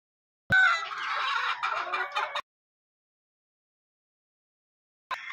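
Hens cluck and squawk loudly at close range in a burst of about two seconds, then fall silent before a short call resumes at the very end.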